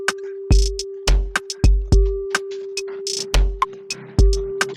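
A bell pad sample in an Afrobeat-style instrumental follows a chord progression, holding a sustained tone under bright, ringing hits. Punchy low kicks and ticking percussion accent it in a loose, repeating groove, with no talking.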